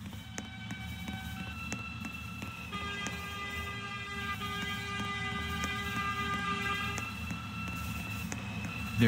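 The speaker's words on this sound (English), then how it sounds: "There is a local train approaching the station." A Roblox subway train pulls into a station at night, a steady rumbling drive under a sustained electric whine with several rising tonal lines, growing slightly louder as it nears.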